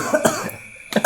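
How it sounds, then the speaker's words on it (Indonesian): A few quick coughs near the microphone, a short burst, a pause, then another cough at the end. "Batuk."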